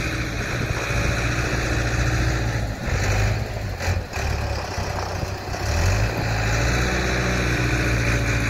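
Diesel engine of a truck loading sugarcane in a field during harvest, a steady loud rumble with some revving and pitch shifts, heard without talk.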